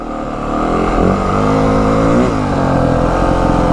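A Yamaha WR450F dirt bike engine pulls in first gear at low speed on slow, tight terrain, a steady loud throb with the pitch rising and falling as the throttle is worked, close and continuous with no talk.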